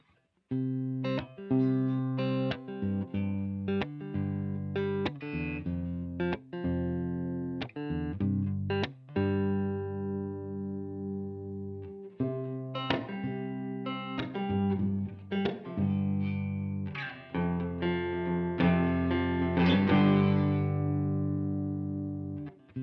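An electric guitar played straight into a Strymon Iridium amp and cab simulator pedal, with no mic on the strings: a sequence of distinct picked notes and chords, each ringing out and decaying, some with a gritty edge, clear and alone.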